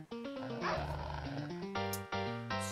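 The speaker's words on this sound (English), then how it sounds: "Or there's a dog." A dog barking and yipping in a video game, rising and falling tonal yelps over a dense, steady game soundtrack, loud and continuous with no talk.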